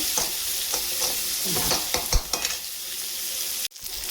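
Mushrooms and aromatics sautéing in a pan for a village-style mushroom curry, with steady sizzling and frying hiss, scraping stirs of a spoon against the pan, and a short sharp break near the end.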